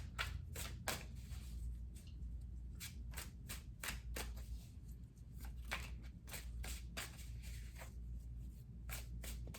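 Tarot cards shuffled by hand in a run of quick riffling bursts, crisp and close with short pauses between flurries, no talking.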